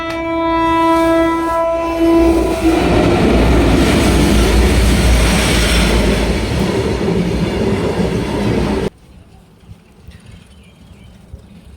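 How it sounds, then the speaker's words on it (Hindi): An Indian Railways train passes close by, with a loud horn blast at the start and then a long rumbling clatter of wheels and cars that cuts off abruptly, leaving quiet background. "ये देखिए ट्रेन गुजर रही है"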